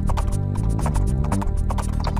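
Horse archers riding in Age of Empires, their hooves clip-clopping in a steady repeated patter against a dense, busy game soundscape.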